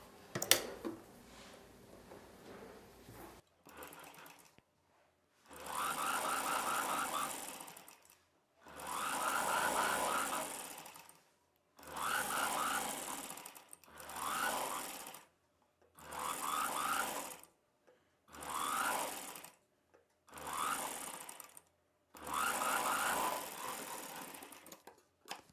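A sewing machine stitches a double-folded cross piece of fabric for an umbrella dress in repeated bursts of rapid whirring, about nine runs separated by short silent pauses, close and clear with no talking.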